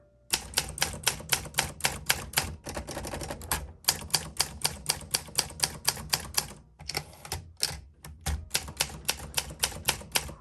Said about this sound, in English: Exactly how I expect an Olympia typewriter to feel.